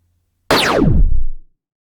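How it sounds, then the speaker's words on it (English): A single laser zap: a bright electronic tone sweeping quickly downward in pitch, loud and close, lasting about a second before cutting off. "So we got ourselves a single laser sound."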